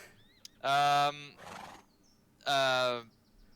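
Two loud, tonal horse neighs with a synthetic, game-like quality from West of Loathing, separated by a brief breathy snort, close and clear.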